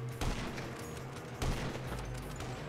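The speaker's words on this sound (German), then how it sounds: "ich höre schon die Schüsse auf mich einfach" Gunfire in the video game GTA Online, two brief louder bursts of shots among faint rattling fire in the background.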